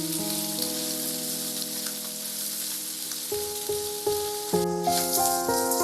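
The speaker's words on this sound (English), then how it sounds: "Onions also have to be fried till reddish brown." Onions fry in oil in a pan over a medium flame for a village chicken curry, giving a steady, close sizzle with occasional stirring clatter and a brighter tonal ringing toward the end.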